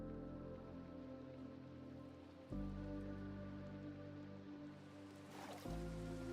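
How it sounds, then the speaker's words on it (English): Rain falls in the video game Minecraft, a soft continuous patter on surfaces at low level, with background music tones sustaining beneath it. "Oh, hey, it's raining."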